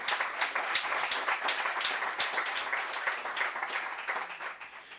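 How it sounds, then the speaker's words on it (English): A crowd at a live chat event breaks into sustained applause, dense overlapping claps holding steady for about five seconds with a few louder hand strikes standing out, close and fairly loud. "Big round of applause, ladies and gentlemen."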